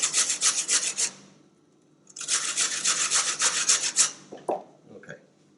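A potato is grated on a grater in two loud, close bursts of quick rhythmic rasping strokes, separated by a short pause and ending with a couple of softer scrapes.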